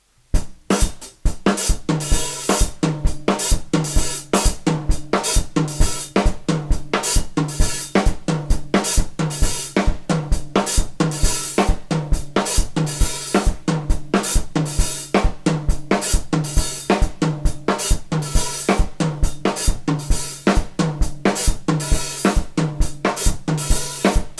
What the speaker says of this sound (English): now at tempo, this bouillon rhythm sounds like this